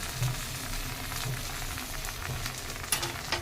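Washed and dried moringa (drumstick) leaves fry in a pan with a steady, moderate sizzle and light crackle, plus a faint clink near the end.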